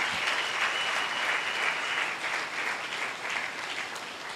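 A church congregation claps and applauds for Jesus Christ during a sermon. The dense, sustained crowd applause holds steady throughout at close range.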